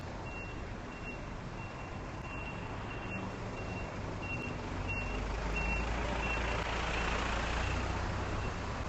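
A truck reverses up a road with its backup alarm beeping in a steady repeating rhythm, the engine rumbling underneath with traffic noise, quite loud and close, and no one speaking.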